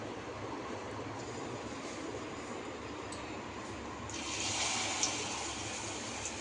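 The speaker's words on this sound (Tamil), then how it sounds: "இப்போ நல்லா எண்ணெய் காய்ஞ்சிருச்சு, நம்ம போட்டு எடுத்துடலாம் வாங்க." Godhumai bonda batter sizzling in hot oil, a steady close hiss of frying that swells louder partway through, with no one talking.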